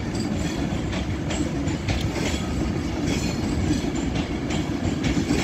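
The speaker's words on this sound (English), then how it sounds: "And there goes the 390 off to Manchester Piccadilly." A Class 390 electric train pulls out of Stockport on the West Coast Main Line toward Manchester Piccadilly, with a steady close rumble and rhythmic wheel clatter rolling past at even loudness and no voices.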